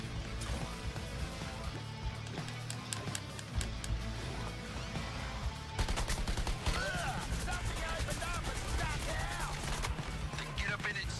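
Gunfire aimed at a tank-like enemy in the PC game Suicide Squad: Kill the Justice League, with rapid bursts and volleys of shots and crashing impacts, loud and dense, growing busier in the second half.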